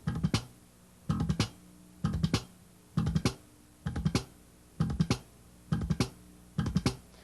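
Slap bass played in a fast machine-gun triplet rhythm, repeated bursts of clicky percussive plucks about once per second, close and clear with no talking.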